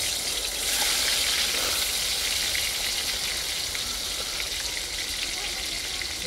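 Onions frying in hot oil in an outdoor garden kitchen, giving a steady, close, bright sizzle that holds evenly for the whole stretch with no talk.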